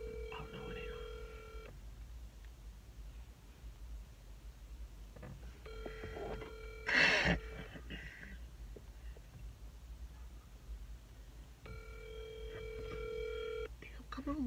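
On an outgoing phone call, the ringback tone sounds three times in long, evenly spaced purrs about six seconds apart. It is faint and thin, with a brief rustling clatter between rings.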